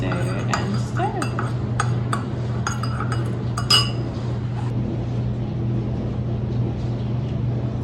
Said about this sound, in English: And we stir and stir and stir and stir and stir and stir.